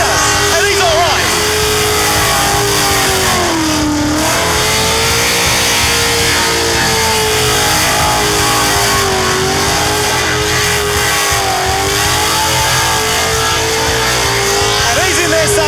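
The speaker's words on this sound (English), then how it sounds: "Listen to the big block." A big-block Chevy V8 revs loudly and close by, its rumbling engine note rising and falling through several throttle blips over a steady idle, with someone talking over it.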